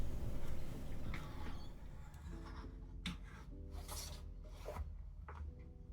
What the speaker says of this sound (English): I sand the leather in a variety of grits working up so I can get a clean finish at the end.